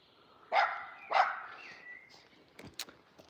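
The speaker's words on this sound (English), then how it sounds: "Barking is natural, but that was, she's spooked." A spooked dog out on a walk in Edinburgh gives two sharp, fairly close barks in quick succession, followed by faint, distant yips and scattered outdoor noise.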